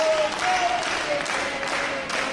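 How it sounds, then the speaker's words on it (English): A wrestling crowd at a SCI 2022 match between Damyan Tangra and Daniel Makabe cheers and applauds steadily, dense and loud, while a commentator talks over it. "the crowd comes alive for the mad scientist"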